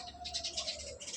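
Racing pigeons coo softly in a short run of low, throaty pulses, faint and near, with a steady hum behind them.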